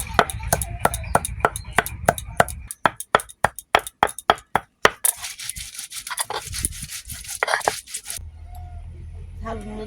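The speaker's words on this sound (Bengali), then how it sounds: "থানকুড়িগুলো বেটে নেব।" Thankuni leaves are ground into a paste with a run of sharp, rhythmic strikes and scrapes close up, followed by softer rubbing strokes and a brief quieter stretch at the end.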